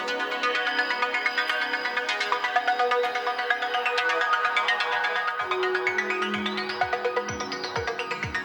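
Sustained synth pad chords from an Elektron Octatrack hold steady harmonies with the pitch sweep switched off, a dense, even bed of tones that later picks up a pulsing low rhythmic layer underneath.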